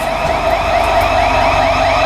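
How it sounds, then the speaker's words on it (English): A building security alarm blares continuously underground, a steady loud electronic tone with rapidly warbling upper harmonics, filling the space with no pauses and no talking. "this is what it sounds like when you set the alarm off"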